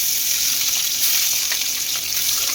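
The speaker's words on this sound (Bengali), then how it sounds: "এই রকমভাবে ধীরে ধীরে মাছগুলোকে তেলের মধ্যে দিয়ে ভেজে নিতে হবে।" Bata fish frying in hot mustard oil gives a dense, continuous bright sizzle and crackle, close and fairly loud, with small spattering pops and no speech.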